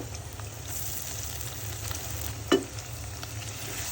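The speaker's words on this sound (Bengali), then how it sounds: "আদা বাটা রসুন বাটা জিরা বাটা ভালো করে আমি পেঁয়াজের সাথে ভেজে নিলাম" Ginger, garlic and cumin paste fries with onions for a Cox's Bazar loitta fish bhuna, a low, steady sizzle with a single sharp clink or scrape midway.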